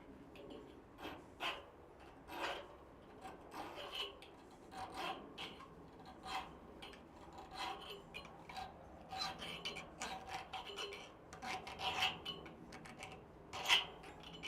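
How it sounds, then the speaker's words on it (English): Sandpaper rubbed over a hand-forged steel blade in a smithy, quiet irregular rasping strokes at close range with short pauses between passes, faint and alone. "A little bit of sandpaper will make that feel good too."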